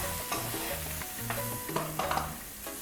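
Onion and garlic sizzle steadily in a hot pan, with a constant frying hiss and a few stirring scrapes near the end, heard close up and without talk.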